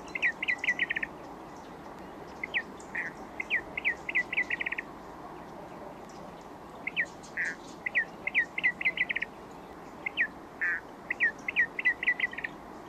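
Small bird repeats short, high chirping calls in quick bursts of several notes, separated by brief pauses, fairly clear against a soft steady background hiss.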